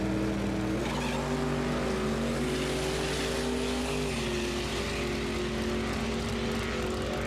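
An S10 Blazer and a Fox Body Mustang race side by side at a drag strip, engines roaring hard and rising in pitch as they accelerate, with a loud, continuous rumble throughout.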